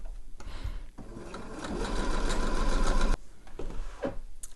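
A sewing machine stitches a waist channel around a garment in a big circle, a close rapid mechanical whirr running in bursts with brief pauses, no talking.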